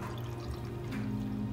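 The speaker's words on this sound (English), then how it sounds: "You're gonna put your bottle of water in." Bottled water poured into a tomato can, a short continuous gurgling pour close by with no talk.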